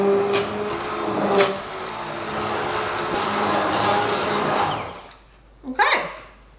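Stick blender whirring through hot cauliflower soup, a loud steady motor drone for about five seconds that cuts off, followed by a couple of brief clattering knocks.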